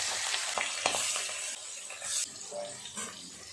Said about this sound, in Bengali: তেল গরম হয়ে গেছে এক এক করে মাছ দিয়ে দেবো